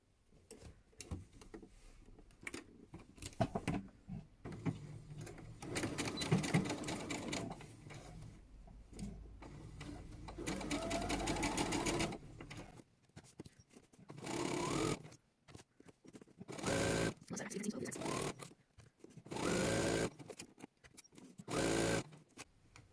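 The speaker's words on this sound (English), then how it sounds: "if you see me sewing and it's not right sides together, we're doing French seams" A sewing machine stitches French seams on Valentine's pyjamas in repeated bursts of fast, rattling mechanical whirring, stopping and starting between runs, close and fairly quiet.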